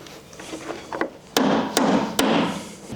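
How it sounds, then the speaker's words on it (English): Wedges are hammered between deck boards over a concrete slab: a few light taps, then three sharp, loud hammer blows in an even rhythm, close by with no talk. "I can loosen this wedge and hit whichever wedge has the smallest gap"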